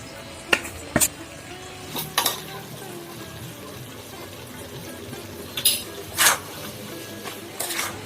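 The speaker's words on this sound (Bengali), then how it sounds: "মশলাগুলো দিয়ে আমি আরো 5 মিনিটের মতো নাড়াচাড়া করে নিয়েছি" Chalta pickle stirred with ground spice paste in a pan, a spoon scraping and clinking against the metal in scattered short bursts over a faint sizzle.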